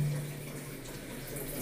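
Water poured over the back of the head during a hair wash after a hair transplant, a steady close splashing and trickling stream that runs continuously for the whole moment with no talk over it.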